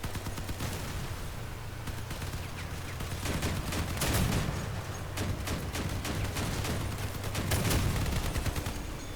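Rapid volleys of booming cannon shots in the video game Crossout crackle in clustered bursts, swelling and fading in waves as the firing goes on.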